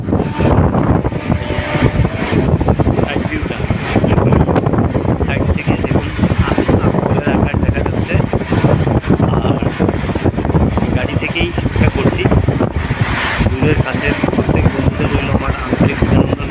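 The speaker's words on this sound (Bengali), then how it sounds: "হাওয়ার ট্রেন যেহেতু চলছে হাওয়ার গতিবেগটাও আছে" Wind rushes past the open window of a moving train in a loud, continuous, buffeting roar close to the microphone, unchanging throughout.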